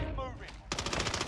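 Gunfire in Call of Duty Warzone Season 5: after a brief voice line, a rapid automatic burst of evenly spaced shots starts midway and rattles steadily to the end, quiet overall.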